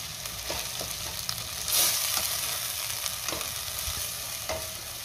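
Ground onion-garlic masala, Byadgi chilli powder and mutton masala being stirred and fried in a pan, a steady soft sizzle with repeated light scrapes of the spoon and no talking.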